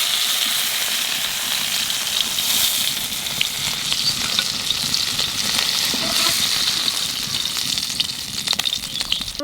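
Shola taro frying in oil without boiling first, a loud continuous crackling sizzle with bursts of spitting, close and steady throughout with no talk.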